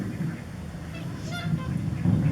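Bewick's swans at a wildfowl centre give a few honking, goose-like calls from a flock, fairly close over a murmuring background of other birds.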